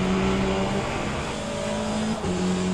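Race cars roar together in the Le Mans Ultimate racing game, with a Ferrari and a Porsche close by. Engines drone loud and steady, whining tones shift as the cars jostle for position.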